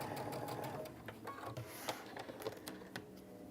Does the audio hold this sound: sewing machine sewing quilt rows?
yes